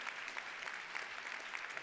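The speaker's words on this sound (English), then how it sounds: "big applause" Steady applause from a conference audience at a plenary session, even and sustained throughout, with no voices standing out over the clapping.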